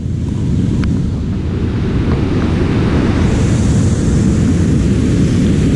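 Foam-covered river water rushing along a hiking trail in the Crosby-Manitou area, a loud, steady broadband roar mixed with gusty wind buffeting the microphone and no talking.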